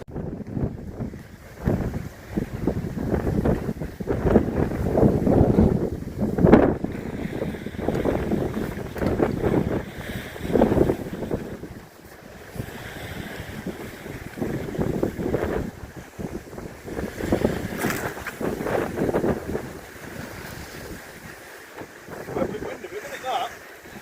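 Wind gusting across a North Wales shore during shark and tope fishing, a loud rumbling buffet of air hitting the microphone that rises and falls in surges, with people talking intermittently under it.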